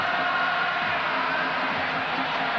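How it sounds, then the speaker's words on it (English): Spanish fans at a 1996 futsal world championship match against Brazil sing and chant in a packed indoor arena, a dense, loud, continuous crowd roar with no breaks. "Spaniards in the crowd trying to out-sing the Brazilians."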